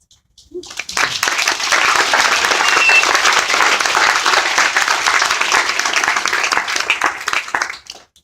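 An audience at a Rare Disease Day 2018 event in Boston breaks into loud, sustained applause, a dense wash of clapping that swells within a second, holds steady for about seven seconds, then quickly dies away.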